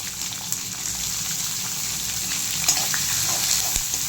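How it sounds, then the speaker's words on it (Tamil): Chopped onions and curry leaves sizzle steadily in hot oil for rava upma, a close, continuous frying hiss with occasional small pops and stirring scrapes. "நல்லா ஃப்ரை பண்ணுங்கள் ஆனியனை."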